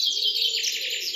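Birds chirping in quick, bright repeated calls, fairly clear and close, with no voices or other sounds.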